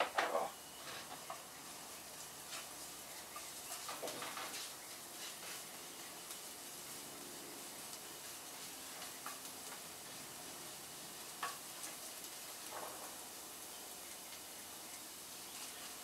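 Garlic sizzling in a pan for a homemade pasta sauce, a faint, steady frying hiss with a few soft clinks of stirring, no voices.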